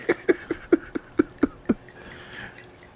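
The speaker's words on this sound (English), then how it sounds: "So deliciously pour it up then." Sweet, fizzy Moscato wine poured into a glass, heard as a run of about eight distinct glugging drops at a steady rhythm, close and clear, then settling into a soft fizzing trickle.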